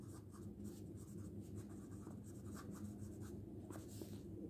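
Pen writing an address on paper, a steady close scratching and scribbling that continues throughout with small strokes and taps, heard alone without talk.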